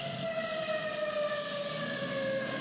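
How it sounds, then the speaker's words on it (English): A fire truck siren wails continuously, its rising and falling tone fairly prominent, with no talking. "You'll hear them loud, too. Fire trucks going by."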